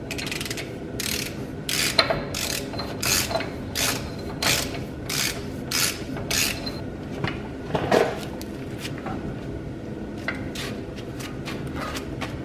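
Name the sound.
specialty axle socket on ratchet wrench, Dodge W150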